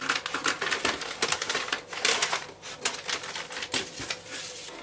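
Scissors snip through folded fabric while pieces for a drape cowl top are cut, a quick run of crisp, rhythmic cuts, close and moderately loud.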